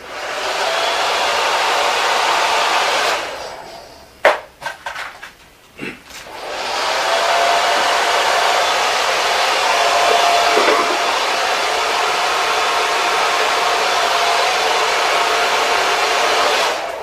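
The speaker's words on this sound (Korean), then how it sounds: "드라이로 보세요." A hair dryer blows steadily on hair set with spray for an updo, a loud continuous airy roar that stops briefly for a few seconds of handling clicks and rustles before resuming.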